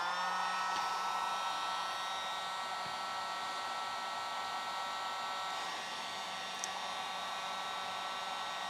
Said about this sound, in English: But you can hear the heat gun is not pushing all the way.